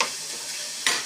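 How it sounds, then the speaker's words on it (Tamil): Boiled grated beetroot being stirred and fried in a pan on low heat for beetroot poriyal; a soft continuous sizzle with a brief sharper scrape of the spoon near the end. "நம்ம முன்னாடியே அவிச்சு வச்சுருக்கனால இதை அப்படி போட்டு நல்லா சுருள கிண்டிடுங்க"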